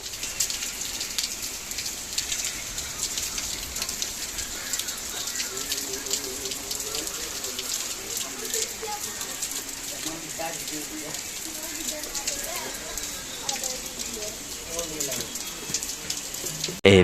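Steady rain falls outdoors near a railway gate, a constant dense hiss of drops on surfaces that continues evenly throughout, with faint background sounds mixed underneath.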